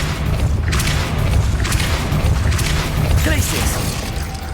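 A Depulso force spell in the Hogwarts Legacy video game lands with a heavy, continuous rumble of booming thuds and mechanical clatter, loud and close, alongside a brief spoken incantation.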